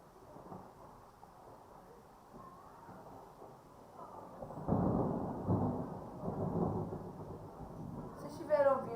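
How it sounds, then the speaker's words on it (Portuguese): Heavy rain roars steadily in São Paulo while low thunder rumbles and swells midway, with a brief voice near the end. "É trovão mesmo, tá chovendo forte aqui em São Paulo."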